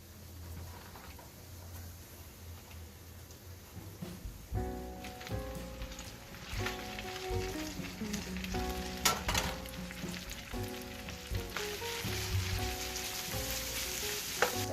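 Pasta dropped into melted butter in a pan, with a steady crackling sizzle that swells after a few seconds and carries on densely, with occasional scraping stirs, close and with no talk.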